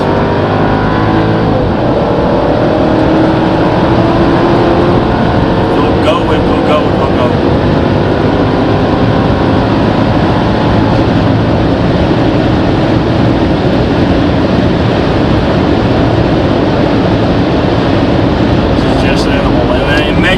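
Mercedes CLS55 AMG W219 from 2005, weighing over 1900 kilos, accelerating hard in sport mode with sport suspension and ESP on, its engine roaring loudly and steadily throughout while someone talks over it.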